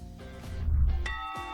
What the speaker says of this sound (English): when the tongue of the bell is struck, the metal body starts vibrating and it also produces a sound